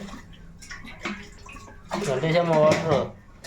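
Water pours into a pot for tamarind rasam, a loud gushing burst in the second half after quieter clinks and handling sounds, with no talk over it.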